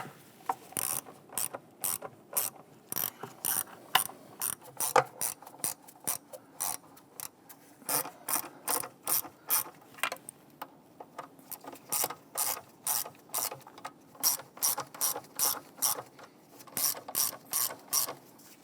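A hand ratchet starts the intake bolts on a 2011-2021 Jeep Grand Cherokee 3.6L engine, giving quick rhythmic runs of clicking that pause and resume repeatedly, heard close and fairly quiet with no talking.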